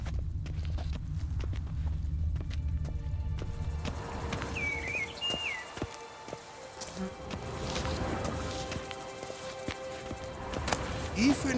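A horse galloping in The Witcher 3, hooves clip-clopping in a quick rhythm under game ambience, with brief voices and a faint bird call along the way.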